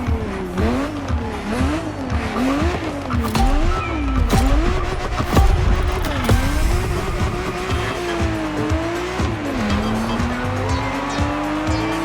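A Ferrari 365 GTB4 Daytona races in The Crew Motorfest, its engine revving hard and rising and falling in pitch through repeated gear changes, with loud tire squeal and skidding, close and continuous throughout.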